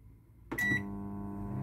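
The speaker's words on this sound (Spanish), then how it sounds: "Lo coloco en el microondas a la misma potencia, 800 vatios, y le voy a dar un tiempo" A microwave oven set to 800 watts cooks a stale-bread pudding, starting with a sharp click and beep and then settling into a steady, close electric hum.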